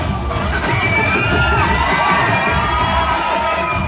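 Theater audience at a screening of the film Saripodhaa Sanivaaram cheers, shouts and whistles loudly and continuously, a dense roaring crowd with piercing whistles rising above it, no speech.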